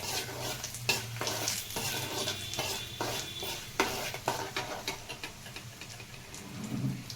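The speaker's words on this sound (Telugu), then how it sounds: "ఆయిల్ వేడెక్కింది పోపు దినుసులు వేసుకున్నాము" Tempering spices crackle and sizzle in hot oil, with scattered sharp pops over a steady frying hiss and occasional clinks from stirring.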